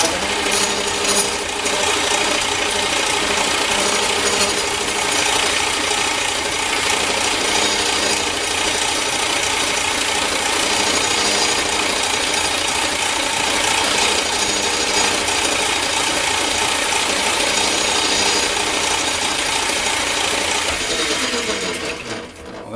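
A 43-thousandths drill bit bores into metal during a camera tripod repair, giving a continuous close grinding, rubbing whine that runs steadily for over twenty seconds without talk before easing off at the end.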